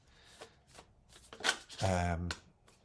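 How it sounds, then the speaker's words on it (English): A Pastoral Tarot deck being shuffled by hand, with a few soft riffling bursts building to a louder close flurry, while a voice talks over parts of it. "Why am I shuffling this?"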